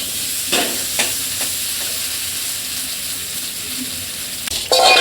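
A simmering potato and soybean curry sizzles and hisses steadily after a little water is poured in, with a few soft stirring knocks and a louder clatter at the end.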